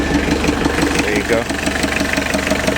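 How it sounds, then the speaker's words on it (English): A 1928 Dodge 124 engine idles with a straight intake pipe and no silencer, giving a steady, fairly loud mechanical churn with strong intake noise while someone talks briefly over it. "It's got quite a bit of intake noise with this just having a straight pipe"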